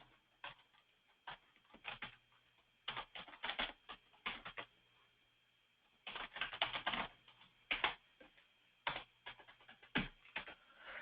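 Rapid bursts of clicking keystrokes on a computer keyboard as an email address is typed, coming in uneven clusters with short pauses between them, close and fairly quiet, with no talking.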